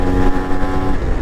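A Yamaha RXZ two-stroke motorcycle engine revs loud and close, a steady buzzing drone with slight fluctuations throughout, on a ride up Chamundi Hill.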